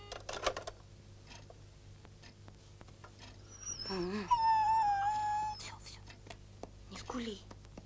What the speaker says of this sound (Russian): Собака. Собака.